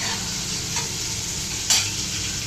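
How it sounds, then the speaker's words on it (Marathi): Potatoes fry in a home kitchen pan, giving a steady, close hiss of sizzling oil throughout with a couple of brief stirring scrapes and no voices. "तळते जरा बटाटा"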